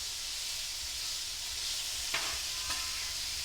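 Bacon frying in a pan for a breakfast dish, a steady bright hissing sizzle up close with a couple of sharp clicks from a utensil.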